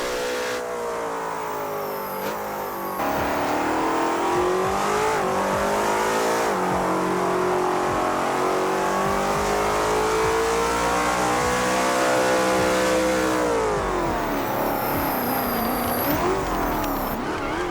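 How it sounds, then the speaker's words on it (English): Venom F5 Revolution hypercar engine in a video game, revving hard with rising and falling pitch sweeps as it accelerates and shifts, loud and continuous, with a brief tire squeal. "The car sounds great."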